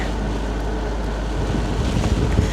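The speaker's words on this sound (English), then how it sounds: "We have sideways wind and rain. It is proper windy." Strong sideways wind and rain roar and buffet the microphone beside a narrowboat with a constant rushing noise, gusting harder toward the end.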